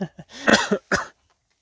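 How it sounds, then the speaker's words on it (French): A single person coughs nearby in a few sharp, throaty bursts, ending with one louder hack before falling silent. "Voilà, je tousse"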